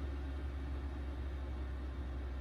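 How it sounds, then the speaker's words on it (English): A 5 kW diesel air heater, the kind fitted to motorhomes, campervans and lorries, being turned down from full power to a lower setting, giving a steady low rumbling drone with a whooshing fan hiss and no voices. "it's now on P5 full blast, so I can just turn it down to P4"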